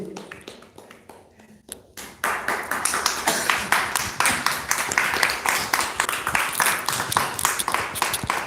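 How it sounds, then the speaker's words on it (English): An audience breaks into steady applause at an evening religious lecture, many hands clapping fast and loud for several seconds after a brief spoken introduction. "Please give applause to Mr."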